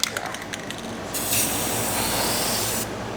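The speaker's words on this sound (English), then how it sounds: "we're gonna spray it" Short bursts of spray paint hiss as an engine is marked, starting with quick puffs, then one sustained hiss of about two seconds, close to the mic.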